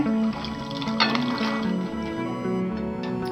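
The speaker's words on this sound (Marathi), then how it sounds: "आता पाण्यासकट राजमा टाकते आतमध्ये" Cooked rajma beans, pressure-cooked and still in their cooking water, tip into a pan of spiced masala with a wet, sloshing pour and soft drips, close by, over a steady tonal hum in the background.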